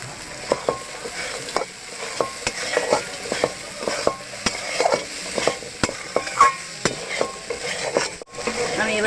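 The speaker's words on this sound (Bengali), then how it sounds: "আমার মশলাটা পুরো ভাজা ভাজা হয়ে গিয়েছে, আমি এবার এর মধ্যে ছোলাগুলো দিয়ে দেবো।" Chickpeas frying in spice masala in a pan, stirred with a spoon: soft steady sizzle with repeated scraping and tapping strokes in an irregular rhythm, close up, without speech.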